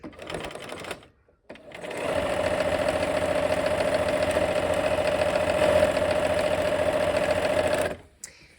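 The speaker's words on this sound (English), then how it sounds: "now we're gonna go ahead and sew these templates together" A sewing machine runs in one long steady burst of rapid, even stitching as fabric templates are sewn together, loud and close, preceded by a couple of brief short stitching starts with pauses between.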